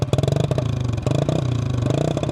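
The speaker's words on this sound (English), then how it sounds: "Give it a quick fire for you. There she is, guys. Beautiful sound in here. He'll give you a little exhaust note." A 1965 Honda Trail 90 CT200 motorcycle running slightly lean, its small single-cylinder exhaust note thumping in a rapid, steady idle pulse with a brief blip of revs, close and loud.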